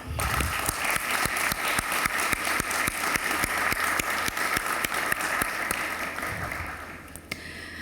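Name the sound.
audience clapping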